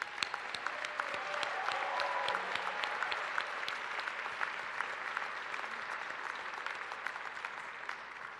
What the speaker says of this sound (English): Why don't you find them in the audience and applaud, wave, and cheer